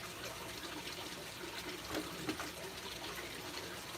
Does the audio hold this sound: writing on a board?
no